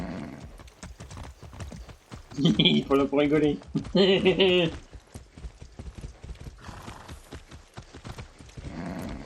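A horse in the Far Cry 6 video game gallops with a rapid, steady clip-clop of hooves and gives two loud, close neighs partway through, while someone speaks briefly over it.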